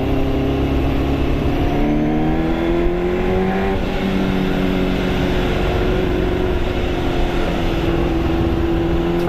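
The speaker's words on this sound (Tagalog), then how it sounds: "Pero ang sarap magmotor ng inline 4 na 400cc." A 1989 Yamaha FZR400R with a 400cc inline-four engine drones loudly while being ridden, its pitch climbing and settling through gear changes over steady wind rush.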